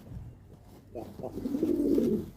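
Buchon colillano pigeons coo close by in a low, rolling burst that swells over the last second or so, with faint background murmur before it.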